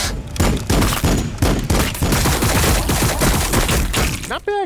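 Heavy gunfire rattles through a Warhammer 40k Battlesector battle, loud overlapping bursts and cracks in rapid succession, close and continuous, ending with a short whining sweep.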